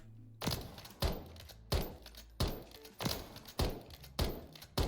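Shots from a JAK Outlaw-277 rifle in Modern Warfare 3, fired unaimed: seven heavy, punchy reports at a steady, fairly quick rhythm, each with a short echoing tail, close and loud with no talking.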